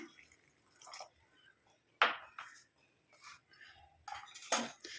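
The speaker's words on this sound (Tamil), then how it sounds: "இப்போ இது கூடவே நம்ம ஒரு டம்ளர் அளவுக்கு தண்ணி சேர்த்துக்கலாம்" Water poured into a coffee powder and black cumin mix for a decoction, heard as small splashes, drips and clinks of a tumbler and spoon, close and intermittent.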